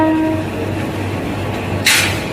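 A train rumbles along the railway at steady volume, heard from on board with a constant low drone and a brief hiss near the end.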